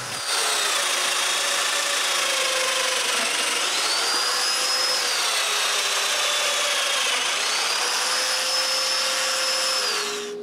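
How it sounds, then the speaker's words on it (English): Domino joiner cutting mortises in wood pieces, a loud continuous high-pitched whine with a shifting, oscillating tone as the cutter plunges and moves, steady throughout with no talking. "Then it's possible to cut the domino mortises on all the pieces."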